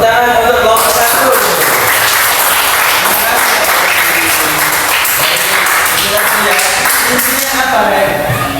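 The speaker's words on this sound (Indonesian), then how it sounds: "tepuk tangan untuk kelompok 1" Loud, continuous applause from a group of students in a classroom, dense clapping filling the room throughout, with some voices mixed in.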